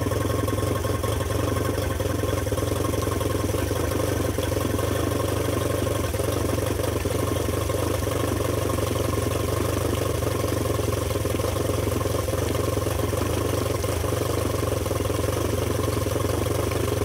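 A Johnson 40 HP outboard boat motor runs after a lower end rework, hooked up to water, a steady loud mechanical drone that holds constant without pause or change in pace for the whole stretch.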